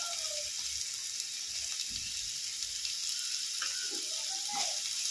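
Chopped onion, ginger, garlic and green chilli fry in a pan with a steady, soft hissing sizzle throughout, interrupted by occasional light clinks of stirring.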